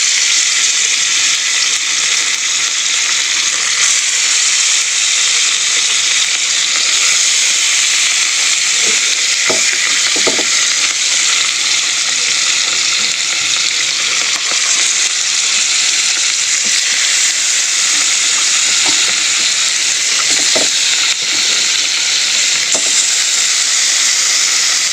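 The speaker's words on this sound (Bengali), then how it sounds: "মাছটা এবার ভেজে নেবো নুন হলুদটা মাখিয়ে। গরম হয়ে গেছে, আমি মাছটা এবারে দিয়ে দেবো।" Fish rubbed with salt and turmeric fries in a hot pan, giving a loud, steady, close sizzle with hissing steam and occasional sharp pops, with no voices.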